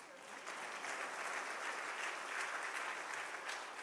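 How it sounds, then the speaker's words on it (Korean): Warm, even applause from a church congregation at a Wednesday worship service honoring children who won drawing awards, a steady wash of many hands clapping, heard from some distance. "우리 다시 한번 우리 큰 박수로 우리 격려해드리겠습니다"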